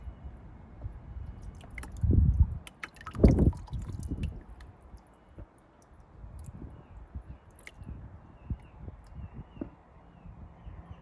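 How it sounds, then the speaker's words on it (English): Wet sand grains rolling and swishing in a gold pan with water, a soft irregular gritty slosh with a couple of louder swirls early on, then quieter trickling and dripping, no talk. "You can hear the grains rolling around in the pan."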